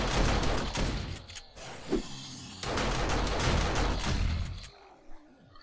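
Shotgun turret and auto turret firing on zombies in the video game 7 Days to Die: loud, dense bursts of gunfire with short gaps, then a sudden drop to quiet at the end.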